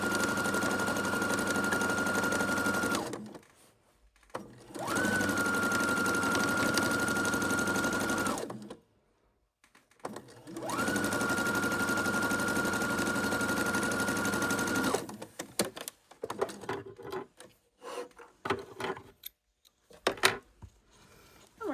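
A sewing machine runs three long, steady bursts of quarter-inch seam stitching on quilt panels, each a few seconds of continuous whirring separated by brief pauses, followed by lighter clicks and handling noises; no talking.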